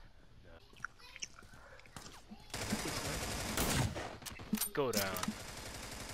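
Gunfire in the online shooter America's Army Proving Grounds, with scattered shots early on and then loud rapid bursts in the middle and near the end. Players whisper and speak over the shooting, and chewing sounds close to the microphone.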